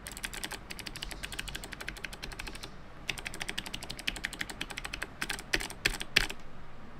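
Fingers type on a keyboard fitted with black NMB clicky switches, producing fast, dense runs of crisp clicks in bursts with short pauses, close and clear with no talking.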